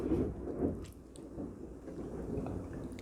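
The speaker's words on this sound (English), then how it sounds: "A big thunder." Thunder rumbles low and heavy through a storm, a deep rolling swell that fades slowly under patter and scattered drips of rain.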